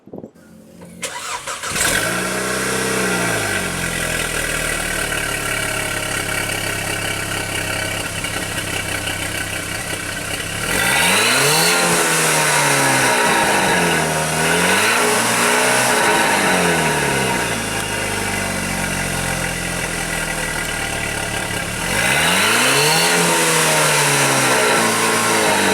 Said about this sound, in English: I finally was able to get a shot and a clip of the sound of the exhaust now with this downpipe on here.